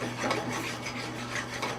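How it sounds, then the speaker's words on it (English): Pasta is stirred in a hot pan with an emulsifying sauce, giving a steady, close scraping and rubbing sound that runs continuously without pause, with a faint low hum underneath. "Meanwhile, I'm just stirring my pasta."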